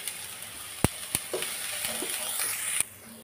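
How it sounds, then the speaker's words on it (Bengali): Onion, garlic and ground spices such as turmeric, coriander, cumin, garam masala and chili powder sizzle in a pan, a steady close hiss broken by a few sharp clicks of a utensil stirring. "পেঁয়াজ রসুনটা একটু নেড়ে নিয়ে আমি এখন গুঁড়া মশলাটা দিব।"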